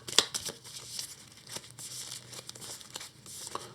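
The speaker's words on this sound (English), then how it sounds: "And we shuffle this back into the deck." Cards from the Earthborne Rangers board game are shuffled back into a deck, a quiet, close run of papery crinkles, riffles and soft snaps that come in short irregular bursts.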